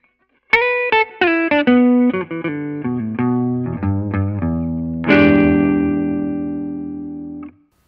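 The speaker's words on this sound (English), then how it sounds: "So let's start out with a clean tone." Clean electric guitar through a Kemper profiler into a Valvetrain power amp with cabinet emulation: a run of single picked notes and chords, each ringing with sustain, ending on a loud strummed chord that rings out alone.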